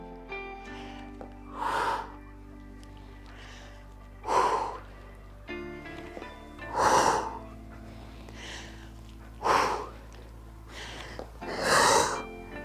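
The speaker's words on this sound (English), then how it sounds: "And of course, you're breathing" During a Pilates power bar class, slow, steady breaths come in five strong exhalations spaced a couple of seconds apart, close to the microphone, with a low hum running underneath.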